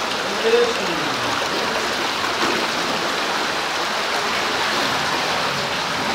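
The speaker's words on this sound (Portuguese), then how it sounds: "a água dentro da casa" Floodwater flows and pours inside a house during heavy rain, a dense continuous rushing wash like a stream or downpour, with faint voices briefly underneath.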